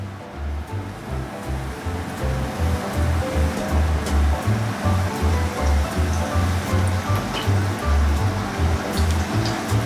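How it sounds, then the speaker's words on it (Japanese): Cabbage menchi katsu deep-frying in 170-degree oil gives a dense, steady crackle and sizzle that runs loud and unbroken for the whole stretch, with no talking over it. "小さい泡が上に上がってきたらこれで揚げていきます。"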